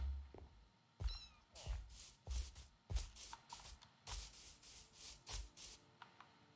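A small kitten in the video game Minecraft meows repeatedly in short, evenly spaced calls, clear and close, mixed with brief rustling bursts and no talking.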